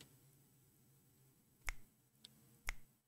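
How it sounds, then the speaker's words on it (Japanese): Two sharp, finger-snap-like clicks from the pixel-art Wild West action game Luckslinger, spaced about a second apart with a fainter tick between them, over a quiet background hum. "指パッチンの音みたいな聞こえてんのよね。"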